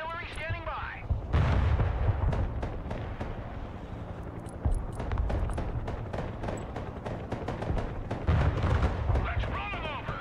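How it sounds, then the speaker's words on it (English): Artillery barrages boom through a Broken Arrow match, deep rumbling blasts rolling in repeatedly under steady game noise, with chirpy radio-style unit voices at the start and end. "Mobile artillery standing by."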